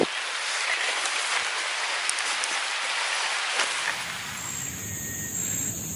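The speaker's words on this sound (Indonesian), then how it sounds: "Hujan lagi." Steady rain pours down at a hunting spot while waiting for green pigeons, a dense broadband hiss that thins out after a few seconds into a softer patter with a faint high tone.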